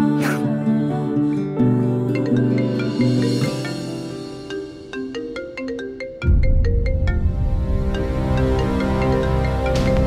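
A phone ringtone plays a loud, repeating electronic melody, shifting to a denser, fuller section partway through, with no voices over it.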